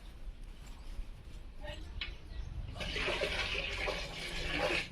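Faint voices, then water pours and splashes steadily from about halfway through, fairly close and continuing to the end.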